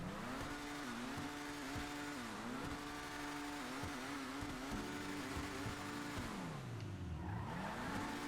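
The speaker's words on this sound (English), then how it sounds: "let's go ahead and rev it up here, do the sound test" Annis S80RR race car engine in GTA Online revving steadily at a high pitch, with repeated rises and drops and one deep dip toward the end, loud and without talk.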